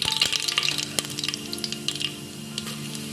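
Mustard seeds sizzle and crackle in hot oil, with dense close popping and spitting that is busiest at the start and settles into a steady fry.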